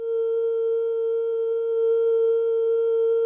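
Oscillators of a Corsynth C103 MKII synthesizer, under square-wave LFO modulation, produce a steady, pure buzzing tone with clean overtones, sustained evenly and alone at moderate loudness.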